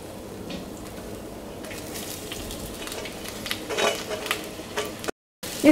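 Crushed ginger, garlic, curry leaves and onion fry in hot oil in a clay pot, giving a continuous close sizzle with occasional stirring scrapes and a brief dropout near the end.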